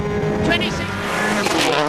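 A rally car races on a stage of the 2003 Donegal International Rally. Its engine revs hard and close, rising and falling through gear changes, while voices talk over the noise.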